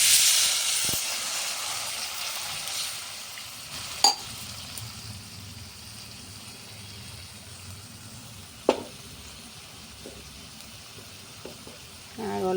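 Curry liquid simmering in a pan with fried puti fish, a soft steady sizzle and bubble with a few sharp clinks of utensils, no talking.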